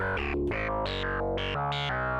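A synth jam plays a loud, dense sequence of shifting stepped notes through a 24 dB filter with high resonance, overdrive and some distortion, driven by a jumping mod sequencer, with no voices.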